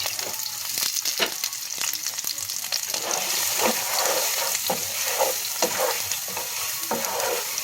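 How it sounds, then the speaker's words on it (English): Onions fry in a pan with a steady, close sizzle, broken by repeated scraping and stirring clatter from a utensil, with no talking. "My onions are starting to get a little translucent."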